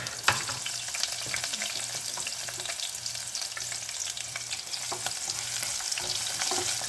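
Chopped garlic frying in a pan of oil for an aloo hari pyaz sabzi, giving a steady, close crackling sizzle that runs throughout with a few brief stirring clinks and no talk.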